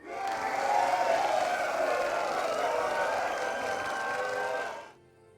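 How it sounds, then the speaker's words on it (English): A crowd in Tainted Grail: The Fall of Avalon cheers and roars in a sustained mass of voices that holds steady for several seconds, then drops away abruptly. "That sounded like there's a lot more people in the crowd"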